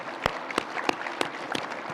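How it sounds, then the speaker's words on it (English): A short burst of audience applause, with scattered individual claps rising and falling over two seconds. "Let's give them a round of applause for helping us put this on."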